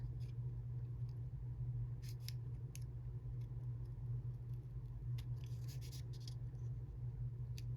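Scissors snip through paper in quiet, scattered crisp cuts, several clustered together, over a soft low hum.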